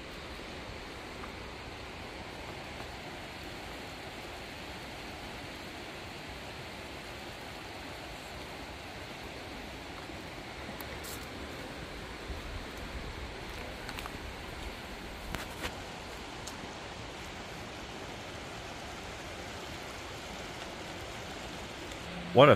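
Creek water flows steadily along the bank near Breakneck Falls at McConnells Mill State Park in Portersville, Pennsylvania, a soft, even broadband wash running alone throughout with a few faint clicks near the end.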